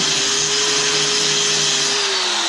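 A power grinder works on worn parts of a New Idea sickle mower with a loud, unbroken abrasive roar and a steady whine throughout, close by, with no talking.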